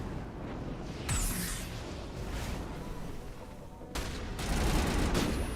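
Sustained gunfire in Mass Effect Legendary Edition, bursts of shots and blasts rolling continuously with louder swells near the start and end.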